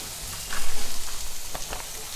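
Vegetables for hakka noodles frying in a pan produce a short burst of hissing sizzle, close and fairly loud, with a soft rumble underneath.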